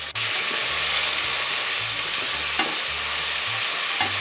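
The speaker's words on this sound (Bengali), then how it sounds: "6, 7, 8, 9, 10 চা চামচ পেঁয়াজ আমি এখানে দিয়ে দিচ্ছি" Onion paste hits a hot pan for chicken biryani and fries with a loud, steady sizzle throughout, with a few faint scrapes of stirring underneath.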